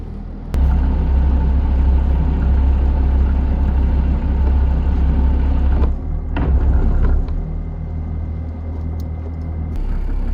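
A loud, steady boat engine drone with a deep low rumble, briefly changing pitch and dipping midway as it goes astern, before settling back into a lower hum.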